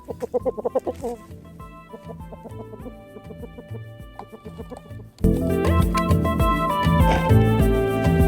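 A homestead chicken clucks in short bursts at the start, then loud music with sustained tones swells up and covers the rest.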